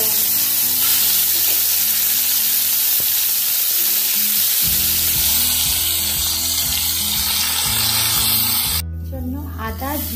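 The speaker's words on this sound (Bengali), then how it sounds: "কড়াই বসিয়ে দিয়েছি, এখন আমি শোল মাছ করে ফেলব। একটু তেল দিলাম ভাজার জন্য" Snakehead fish frying in oil in a wok gives a steady, close, hissing sizzle that runs throughout beneath louder tonal background music.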